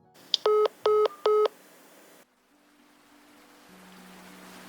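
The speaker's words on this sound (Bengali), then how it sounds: "ফোনটা কেটে গেল।" A phone call disconnects with three short, evenly spaced electronic beeps close up. Quiet follows, then a faint, gradually rising hiss of background noise.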